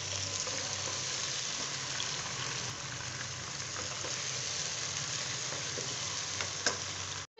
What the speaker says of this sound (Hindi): ये आलू के साथ ये भी फ्राई हो जाएगा।